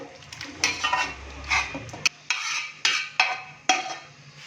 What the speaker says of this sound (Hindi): माशाल्लाह से बीफ को हमने खुले से बर्तन के अंदर ट्रांसफ़र कर लिया है